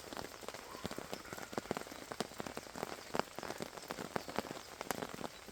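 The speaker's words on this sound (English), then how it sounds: "So the rain has actually got the better of the drip lines." Rain patters steadily onto a hammock camp tarp and gear, a dense, close drumming of drops with frequent sharper taps, continuous and without voices.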